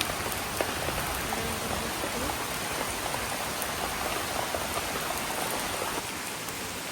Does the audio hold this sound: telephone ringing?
no